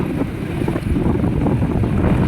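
A ferry boat crossing the river at Kalna ferry ghat, its close, steady engine drone mixed with buffeting wind throughout.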